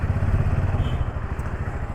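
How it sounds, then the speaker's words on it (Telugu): KTM Duke 200 running with a noisy chain, a steady low mechanical whirring clatter close up, continuous and fairly loud throughout. "సో బైక్ చైన్ సౌండ్ ఒకసారి చూపించాలి"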